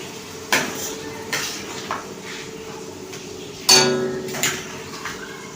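A spoon stirs a carrot and desi ghee mixture in a pan for carrot barfi, making a few separate scraping clinks on metal over a faint sizzle. One louder clank lands near the middle, close and alone.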